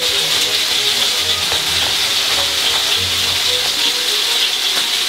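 Crushed garlic and onion frying in a pot for beef and carrot stew give a loud, continuous, close sizzle with faint stirring scrapes underneath.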